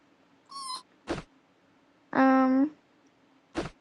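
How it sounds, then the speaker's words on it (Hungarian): A small cat gives two clear, close meows, a short one and then a longer, louder one, separated by soft tapping and clicking sounds in an otherwise quiet room. "akkor itt van a kis cica is, van neki egy ilyen játszó része"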